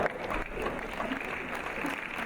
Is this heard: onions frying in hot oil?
no